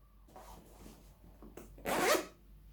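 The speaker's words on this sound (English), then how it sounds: "The zipper works beautiful." A zipper on a new pair of boots is drawn along in short scraping pulls, then one louder, faster rasp near the end, close and alone with no talk.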